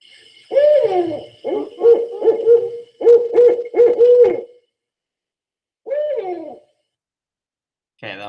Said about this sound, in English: that was the barred owl